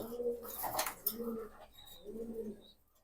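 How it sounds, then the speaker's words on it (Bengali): Jabra pankhi pigeons cooing close by, with three low, rounded coos in a slow, regular rhythm, each lasting about half a second, and a brief higher flutter between them. "একেবারে ফুল জাবরা কবুতর"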